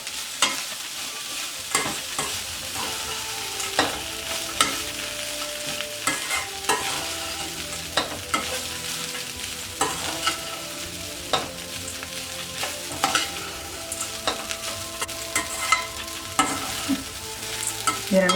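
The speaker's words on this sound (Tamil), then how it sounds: "இதை இப்போ நல்லா கலந்து விட்டுக்கலாம்." Soaked aval (poha) upma stirred in a hot pan, with a steady soft sizzle under repeated scraping strokes of a spoon, close and continuous, with no talking.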